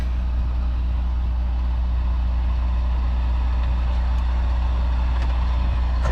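A JB Hunt intermodal semi truck's diesel engine idles after a cold start, a loud, steady low rumble with a constant deep drone close by and no talking.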